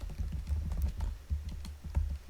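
Rapid typing on a computer keyboard, close and steady, with clusters of light key clicks in an uneven rhythm and no voices.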